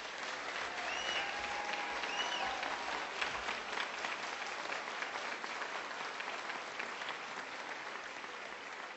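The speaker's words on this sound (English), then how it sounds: "please join me in one final round of applause to wish all of our graduates the best" Sustained applause from a large audience at a December graduation convocation, dense steady clapping filling the hall for the whole stretch without speech.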